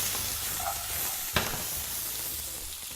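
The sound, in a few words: new potatoes tossed and frying in a pan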